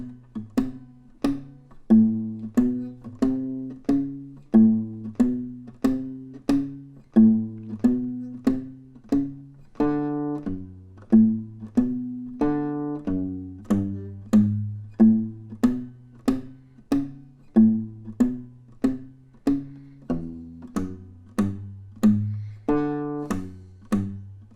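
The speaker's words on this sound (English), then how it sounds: "So the whole bass line played through sounds like this." Walking blues bass line on a guitar in A, a steady plucked pattern of repeating low notes in an even groove with occasional higher chord stabs, clear and close with no talking.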